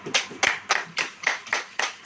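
During a church sermon, hands clap in a steady, evenly spaced rhythm of about eight crisp, loud claps close by, with no voices over them.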